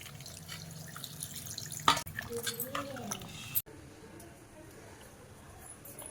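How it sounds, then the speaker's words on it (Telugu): Water splashes and trickles into a metal pot of country chicken with turmeric and salt, amid clinks of cookware, with a sharp clatter partway through and kitchen noise continuing after. "కొద్దిగా నీళ్లు పోసుకోవాలి."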